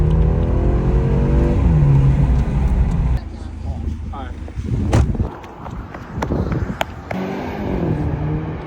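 BMW engine fitted with an aftermarket Alibaba intake, revving loudly and close in bursts that rise and fall, with people talking excitedly over and between the revs.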